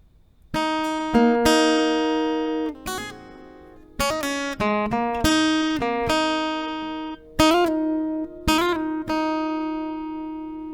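Plucked acoustic guitar notes ring out one at a time in a slow melody, each note sustaining and fading before the next, close and clear.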